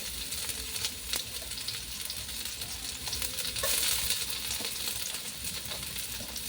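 Garlic fries in a pan for a home-style kalderetang itik, with a continuous crackling sizzle and occasional scrapes of stirring. The sound is close and steady, with no talk.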